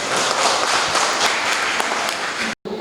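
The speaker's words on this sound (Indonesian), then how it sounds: "Tepuk tangan dong ini." Audience applause at an event in Lumajang celebrating miniature trucks, a dense, loud wash of clapping that fills the room steadily before cutting off abruptly near the end.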